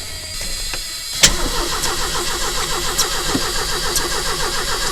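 A 1979 Ecoboost coupe engine cranks briefly, catches with a sharp burst and settles into a steady, loud idle close by, with no one talking.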